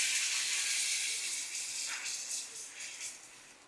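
Thin jowar dhirda batter poured onto a hot tawa over lowered gas gives off a bright, hissing sizzle that starts strong and slowly fades.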